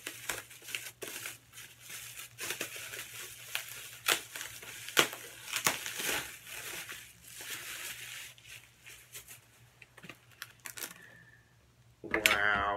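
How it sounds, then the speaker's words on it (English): A mailed gift is unwrapped with a dense run of crinkling and tearing paper and plastic rustles close by. Someone speaks briefly at the end. "So let me unwrap this one."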